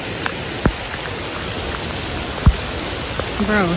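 Heavy rain pours steadily over flooded city streets in Milwaukee during a flood alert, a dense hiss of water with a couple of sharp knocks and brief faint voices near the end.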